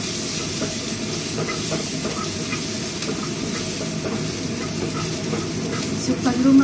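Garlic added last to a hot pan of ginger and onion for pork bagoong with coconut milk, giving a steady broadband sizzle and hiss with occasional stirring scrapes, close and continuous with no talk.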